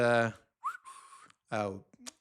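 A short, wavering whistle sits between a few brief voiced sounds, close and moderately loud, with gaps of silence between.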